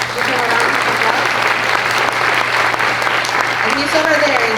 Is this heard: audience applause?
yes